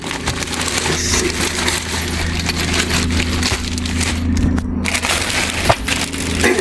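A plastic bag holding a Tesla sunshade crinkles and rustles as it is handled up close, with continuous loud crackling and a few sharper rattles over a low steady hum.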